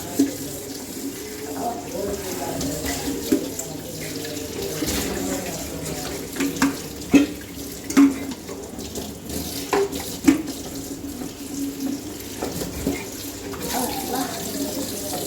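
Water runs through a kitchen sieve into a sink in a steady rushing stream, close and fairly loud, with scattered clinks and knocks and a voice talking intermittently.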